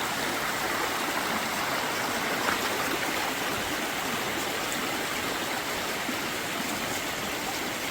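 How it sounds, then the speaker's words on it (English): Mountain stream on the Appalachian Trail near a trail shelter, a constant loud rushing of water close by that never lets up, with no voices. "Now this is water."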